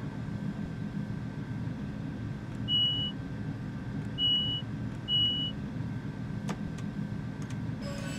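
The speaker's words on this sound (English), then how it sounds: "the beeping sound, which should sound twice, is only sounding once for some reason" Short electronic beeps from a train cab in Train Simulator 2015, on a night run from Glasgow Central to Glasgow Airport: three brief tones spaced a second or so apart over a steady low rumble and hum.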